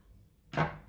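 Scissors snip once through crochet yarn while finishing a headband, a single short close cut in an otherwise quiet moment.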